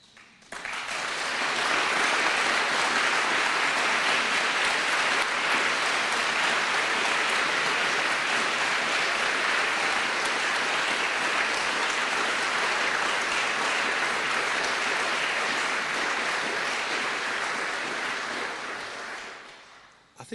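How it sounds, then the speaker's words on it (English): Sustained audience applause fills the hall after a major economy speech by a UK political leader, a steady dense wash of clapping that rises quickly, holds for about eighteen seconds, then fades. "I think I even saw the Mayor of Liverpool clapping at that one."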